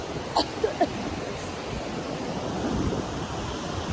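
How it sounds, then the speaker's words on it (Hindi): Strong wind blows near a waterfall in the hills around Manali and the Atal Tunnel, a steady rushing roar that buffets the microphone, with a few faint clicks near the start. "हवा बहुत तेज चल रही है नीचे"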